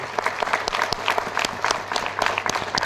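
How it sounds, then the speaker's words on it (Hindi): A crowd applauding at a seminar in Ahmedabad, many hands clapping in a lively, uneven patter that stays loud and steady throughout. "सर के लिए एक बार शानदार ताली बजाइए आप लोग"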